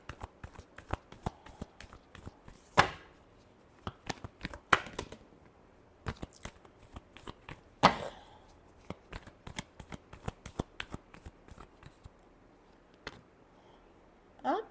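Tarot cards being shuffled by hand close up, a long run of quick riffling flicks and soft slaps with a few louder snaps, over a quiet room.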